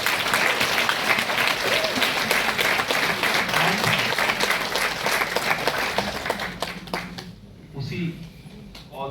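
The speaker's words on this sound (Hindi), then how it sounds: "एक जोरदार ताली।" Loud, dense audience applause at a spiritual gathering, sustained rapid clapping that fades out near the end as a voice begins talking.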